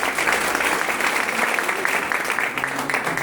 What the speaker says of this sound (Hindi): एक बार ताली बजा।